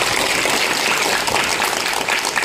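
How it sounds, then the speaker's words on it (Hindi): Loud, dense applause from a crowd welcoming speakers at a rally of striking anganwadi sevikas and sahayikas in Banmankhi, a steady wash of many hands clapping throughout. "जोरदार तालियों के साथ स्वागत करेंगे।"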